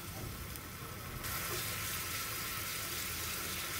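Spice paste frying in a pan makes a continuous broad hiss that swells louder partway through, a dense steady sizzle close by with no clear talking.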